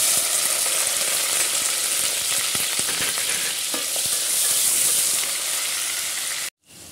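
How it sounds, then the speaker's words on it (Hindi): Two medium-sized chopped onions frying in a pan, a loud, dense, continuous sizzle with occasional crackles and stirring scrapes, ending abruptly. "ये 2 मीडियम साइज की अनियन है कट करी हुई, इसमें डाल देंगे, और ये प्याज को थोड़ी हल्की हल्की ब्राउन करेंगे"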